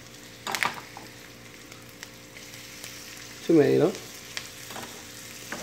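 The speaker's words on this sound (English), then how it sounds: "You just kind of saute it a little bit." White onions, yellow peppers, mushrooms and tomato sauté in a pan for an egg-white omelette, giving a soft, steady sizzle and stirring under brief speech.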